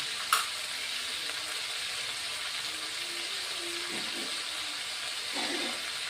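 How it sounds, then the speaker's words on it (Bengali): Ground spices, coriander and Kashmiri chili powder, sautéing in a pan for an egg curry give a faint, steady sizzle with a brief clink near the start and light scraping stirs later on. "এখন আবার কষিয়ে নিচ্ছি"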